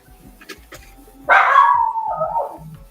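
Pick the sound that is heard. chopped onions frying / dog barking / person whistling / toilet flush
dog barking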